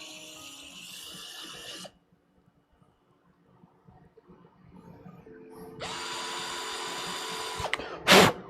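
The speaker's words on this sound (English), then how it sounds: "I might have to drill these ones out" A small power drill whines in two short bursts on parts of a 3D-printed RC truck kit, with a quiet pause between them and a sharp clatter at the end.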